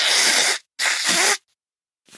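Two forceful, close nose blows after sneezing from pepper, each a breathy rush lasting about half a second, followed by a faint breath after a short pause.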